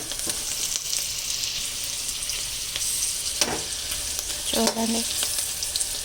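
Red chillies fry in hot oil for a crunchy snack mix, a steady, bright sizzle running throughout with a few clinks of a spoon stirring, and a brief word spoken over it.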